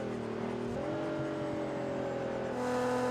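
A Nissan GT-R race car in Project Cars 2 at the Nürburgring revs with a sustained engine whine whose pitch climbs and holds, loud and continuous, as the car pulls through the gears.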